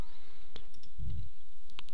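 A few short, sharp computer mouse clicks in Microsoft Word 2010, close and distinct against quiet room tone.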